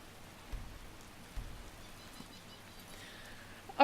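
Rain in the video game Skyrim makes a steady, faint hiss with a few soft low thumps. A brief brighter tone comes at the very end.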